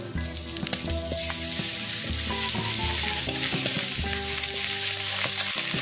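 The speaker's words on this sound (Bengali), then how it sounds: "আবারও হালকা একটু ভেজে নিচ্ছি" Ginger, garlic and dry chilli pastes frying in oil for a fish curry, a steady close sizzle with light stirring scrapes throughout and no voices.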